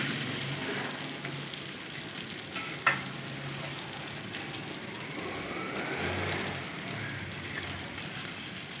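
Steady crackling sizzle of garlic cloves frying in hot oil for mango pickle, with one brief clink of a utensil partway through; no voices.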